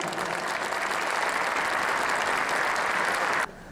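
Sustained applause from a large audience at the opening ceremony of an ice arena in Tomaszów Mazowiecki, Poland, dense and steady for several seconds before cutting off abruptly near the end.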